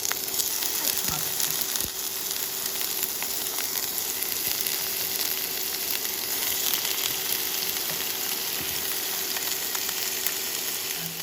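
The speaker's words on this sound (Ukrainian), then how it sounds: "Ось так зігрію сковорідку і буду смажити крильця." Continuous close sizzling and crackling of chicken wings frying in oil in a pan, steady throughout with a few faint clinks and knocks.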